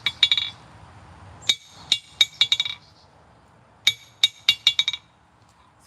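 A one-pound ball peen hammer strikes metal at a forge, landing in three quick bursts of sharp ringing clinks with short pauses between them, close and loud against a quiet background.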